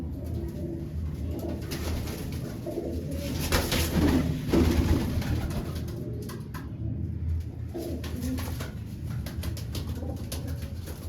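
Pigeons coo in a loft, a continuous layered murmur of throaty calls from several birds, swelling slightly midway and carrying on steadily without voices.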